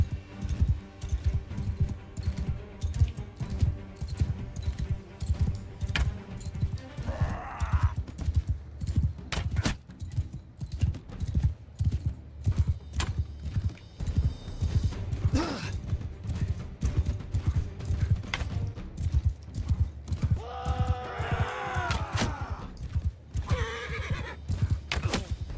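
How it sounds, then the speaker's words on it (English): Hooves of a slow sumpter pack horse clop steadily in Mount & Blade II: Bannerlord, with whinnies and neighs rising over busy battle noise, clashing and distant shots throughout. "Oh, I forgot how slow sumpter horses are."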